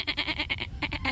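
Goat bleating in a run of about nine short repeated bleats, close and fairly loud, on a farm in Batanes, with no talk.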